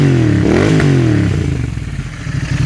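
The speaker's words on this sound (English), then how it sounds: "It goes straight to the rev limiter. Absolutely lovely exhaust." A Royal Enfield Interceptor motorcycle fitted with a TEC Stinger 2-1 exhaust revs hard, rising and falling in pitch, then settles into a loud, close, lumpy idle burble.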